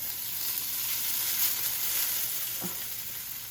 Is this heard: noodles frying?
yes